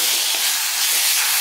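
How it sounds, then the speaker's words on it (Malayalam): Curry leaves hit hot oil for a Kerala-style apple curry, giving a loud, steady hiss of sizzling that fills the short clip with no pauses. "പൊടികൾ ഇടുന്നതിന് മുമ്പായിട്ട് നമുക്ക് കറിവേപ്പിലയും കൂടി ഇട്ട് കൊടുക്കാം"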